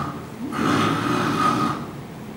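A voice imitates the snoring of someone with obstructive sleep apnea and mild hypopnea: a single raspy, droning snore-like breath that swells and holds for about a second and a half before fading, close and alone.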